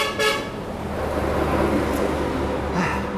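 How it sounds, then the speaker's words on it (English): Trucks on a Vietnamese highway blast their horns in loud bursts at the start and again near the end, over a steady rumble of passing road traffic nearby. "always loud trucks here in Vietnam"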